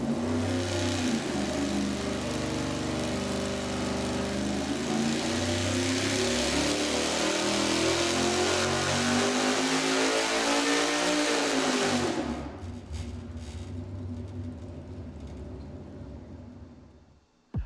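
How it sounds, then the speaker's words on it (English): A V8 engine on a dyno makes a fast 600 RPM-per-second pull with lightweight rotating parts, a loud rising roar climbing steadily in pitch for about twelve seconds before cutting off into a falling idle burble and fade. "Next up, the faster run, 600 RPM per second with the lightweight components."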